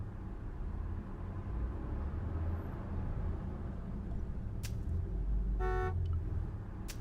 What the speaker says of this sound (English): all I could hear was the ceaseless drone of traffic